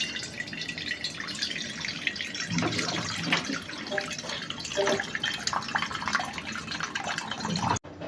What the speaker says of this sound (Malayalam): ആദ്യം ഇതിൽ വെള്ളം നിറക്കണം